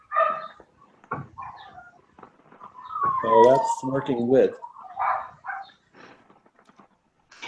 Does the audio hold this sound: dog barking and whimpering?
yes